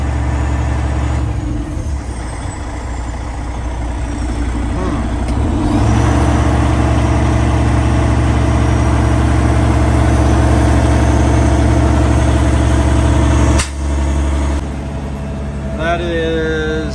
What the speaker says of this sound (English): 10 pound boost, 1400 RPM, just high idle.